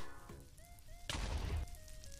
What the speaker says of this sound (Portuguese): Olha a explosão que o 50 faz!